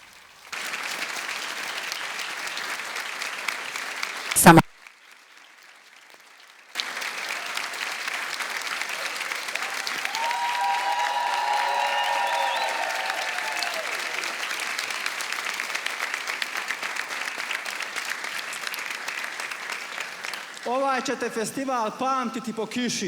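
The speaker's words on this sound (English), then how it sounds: "let the choir and the priests give an applause to you" A choir and priests applaud the congregation at the Mladifest youth festival catechesis. Steady clapping runs through most of the stretch, broken by a brief loud burst and a short pause, with a voice talking over it and sung notes near the end.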